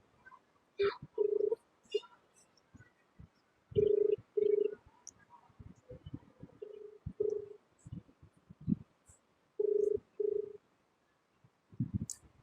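A telephone call to a teacher during a quiz show game rings out as repeated paired tonal pulses, clear and close, separated by gaps and soft clicks.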